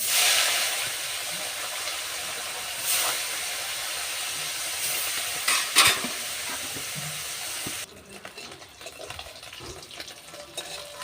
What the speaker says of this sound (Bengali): বাকি মাছগুলো আমি কড়া করে ভেজে নেব।